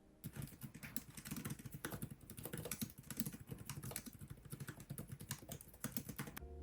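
Fingers type on the keyboard of an Asus Zenbook Duo UX8406 laptop, producing quiet, rapid, uneven clicks of keystrokes in a continuous run.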